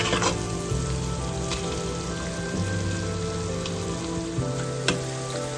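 Onions frying in a pan for a Kerala-style soya and Chinese potato ularthu, a steady close sizzle with a faint hum underneath and a sharp knock near the end, with no talking.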